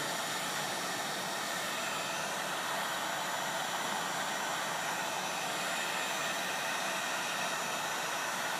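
Hot-air heat gun warming a Wonderflex thermoplastic sheet past its working temperature, giving a steady, even broadband blowing hiss that holds near and constant throughout with no talk.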